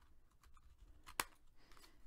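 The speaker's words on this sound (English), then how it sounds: "Now with these, you have to go back and cut or snip where it did not" Scissors make a single sharp snip while trimming a paper craft cutout for a mini coffee cup, a brief quiet click standing alone against near silence.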